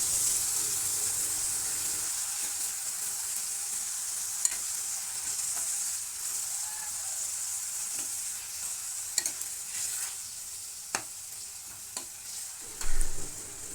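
Minced meat frying in a pan, a continuous bright sizzle with occasional scrapes and taps of stirring, close and steady with no voices.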